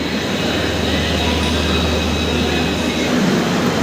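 Continuous loud rumble and hiss at Anand Vihar terminal around the Vikramshila Express standing at the platform, a dense steady station and rail wash with no clear individual events.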